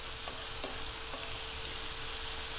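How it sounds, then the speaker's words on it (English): Onions sauté in well-heated oil, a quiet, even sizzle that stays steady throughout, with a couple of faint utensil taps early on and no talk. "Saute this till it's that onion caramelizes."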